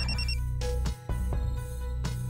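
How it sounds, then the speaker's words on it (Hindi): A telephone rings in a Pakistani drama scene, a loud electronic ringtone pulsing in short repeated tones with one brief gap, with no voices. "अब इस वक्त किसका फोन आ गया?"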